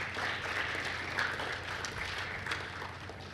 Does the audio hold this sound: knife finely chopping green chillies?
no